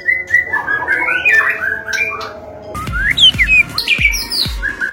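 A white-rumped shama (murai batu) sings nearby in a steady run of bright, varied warbling whistles and trills, with a few dull low thumps breaking in during the second half.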